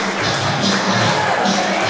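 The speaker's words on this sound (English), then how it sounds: "What are these people clapping for?" Crowd at a wrestling show claps and cheers in a loud, continuous roar, a dense mix of voices and hands rising in swells, close and filling the hall.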